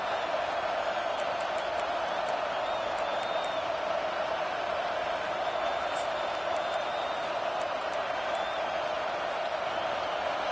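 Home crowd at a football game roaring steadily as the defense tries to get off the field on third down, a dense sustained wash of cheering with scattered whistles, broad and distant-sounding, continuing unbroken throughout.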